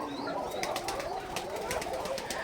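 Coca pigeons at a pigeon farm in Bangladesh make a steady busy flock din, with soft cooing and repeated wing flutters and clicks close by and no talk.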